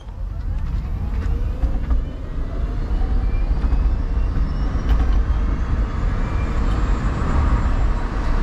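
A Citroen Ami electric microcar accelerates, its steady low road and drivetrain rumble heard from inside the cabin with a faint rising whine, continuous and fairly loud throughout.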